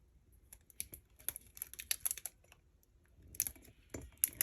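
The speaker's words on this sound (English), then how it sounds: "I'm going to take the time and tape it down on the sides here" Tape is pulled and pressed along the sides of a sublimation sheet wrapped on a mug for a Cricut mug press, giving faint, close, irregular crinkles and taps in short clusters with quiet pauses between.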